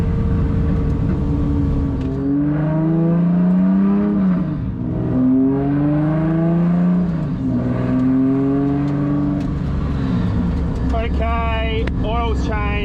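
A car engine runs and revs on a track, rising and falling in repeated loud sweeping pitches, with rapid shifting climbs near the end and a person talking over it.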